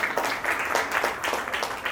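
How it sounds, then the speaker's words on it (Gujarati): Audience at a Gujarati book launch applauds for Grishmaben, a moderate, brisk patter of many hands clapping in a small hall, steady for the whole stretch. "ગ્રીષ્માબેન માટે પણ જોરદાર તાળીઓ"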